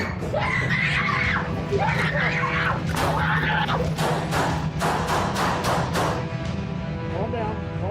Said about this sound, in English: We can get a female screaming for help.